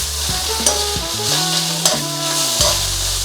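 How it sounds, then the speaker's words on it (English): Strips of beef sear in a very hot wok over a high flame, giving a steady bright sizzle with soft stirring scrapes under melodic background music. "start to just sear the other side."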